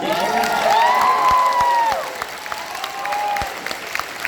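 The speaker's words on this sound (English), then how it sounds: "Can we get an applause for Tomar?" A Comic Con panel crowd applauds and cheers, its clapping and whoops partly masked by a loud swooping electronic tone and scattered sharp clicks that stand out over the sustained applause.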